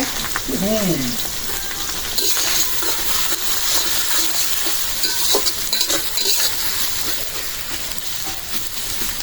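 Onions sizzle and fry steadily in a pan while mutton and chana dal are being cooked, with a continuous crackling hiss, occasional stirring clinks and a brief voice near the start.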